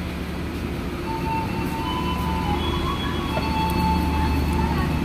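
Cikuray passenger train running from Bandung to Cibatu, Garut, a steady low rumble heard from inside with faint squeals and rattles, fairly loud and continuous.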